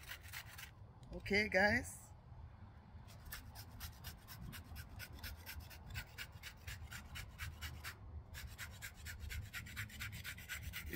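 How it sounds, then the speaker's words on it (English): Coconut grated by hand on a metal hand grater, heard close as a steady run of quick rhythmic rasping strokes that follow a brief spoken phrase at the start. "in this other container you have to use your grater and do it like this"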